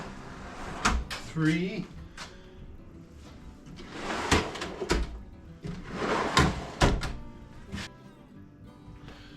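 Vertical sliding drawer cabinet, a home-built storage piece, with its drawers pulled out and pushed back several times, giving sharp wooden knocks and sliding rumbles spread across the clip under a person's counting voice.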